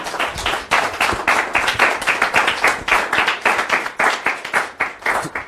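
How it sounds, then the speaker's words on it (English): Round of applause in a training session, a close group clapping in a strong, regular rhythm of sharp, loud beats that continues evenly throughout. "Let's give the Lord a round of applause."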